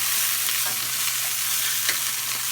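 Moose meat sizzles on a hot grill while being moved around, a close, steady hiss of frying with faint scraping and shifting sounds mixed in.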